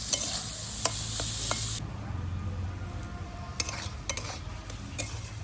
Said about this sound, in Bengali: আর একটু হলুদ দিয়ে সবজিটা আরো দু মিনিট ভেজে নেব